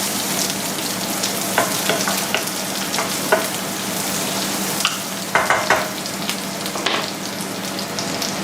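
Mushrooms frying in butter, a steady close sizzle with regular utensil scrapes and clinks from stirring as they cook, with no one speaking.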